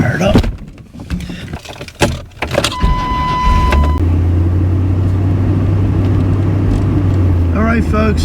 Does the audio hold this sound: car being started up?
yes